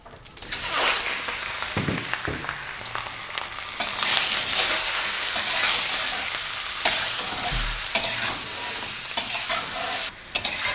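Pieces of dumba mutton frying in hot rendered fat for karahi, a loud continuous sizzle with stirring scrapes and clatters throughout.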